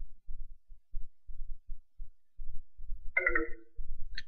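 A mobile phone ringtone sounds in a short melodic burst over the low thumping rhythm of a FIFA 14 football match game, standing out clearly and briefly before the game audio carries on.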